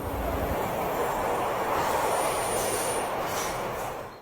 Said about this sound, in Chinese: 这个画面它有火车，那我们就加入火车的音效。